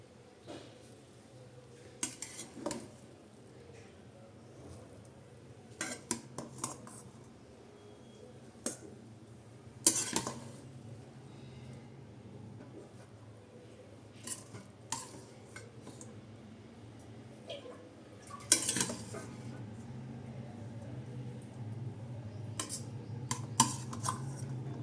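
Cooled cooked rice for mango pulihora being mixed in a wide bowl, soft, faint scraping and occasional light clinks of a spoon against the vessel, sparse and irregular at close range.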